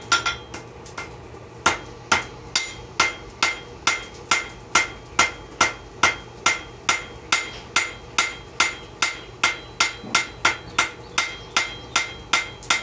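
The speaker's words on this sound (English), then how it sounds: "I'm really just letting the weight of this hammer do the work here." Hand hammer forging a copper and wrought iron coffee scoop: close, ringing metallic blows in a steady rhythm of about two per second, continuing evenly for roughly thirteen seconds with no talking.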